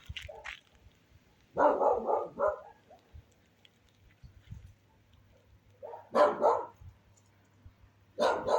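A dog barks in a few short bursts, separated by quiet stretches, moderately close with a low hum underneath.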